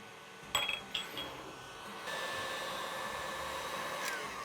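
An electric mixer whips cream with vanilla extract, a brief clink of metal on the bowl first, then a steady whirring hum that runs on evenly to the end, no talking.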